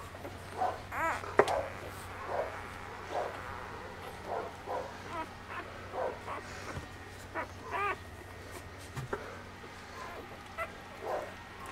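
A litter of newborn puppies whimpers and squeaks in short high cries, repeated irregularly from close by, over a low steady hum.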